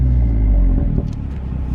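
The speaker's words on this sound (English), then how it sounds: "start the car up" A Volkswagen Golf R MK7 engine rumbles loud and close, with a deep steady drone and a slight dip in level partway through, no voices.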